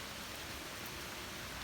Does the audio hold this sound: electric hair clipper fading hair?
no